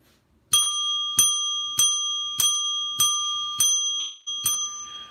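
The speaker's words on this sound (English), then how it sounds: "There's a 7 bell dinger commercial break just because I wanted to do some dingers." A bicycle-style bell rings seven times at an even, brisk pace, each ding bright and ringing out before the next, loud and close with nothing else heard.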